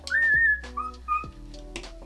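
A person whistles a few short tonal phrases with sliding pitch, close and clear, with brief gaps between notes and no talking.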